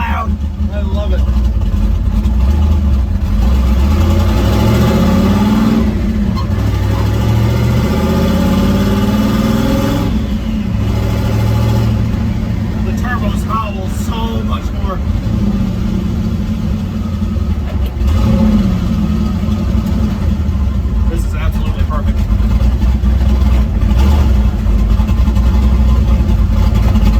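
An old truck's engine runs steadily with a loud, rumbling exhaust, rising and falling as it revs over the full stretch, with no breaks.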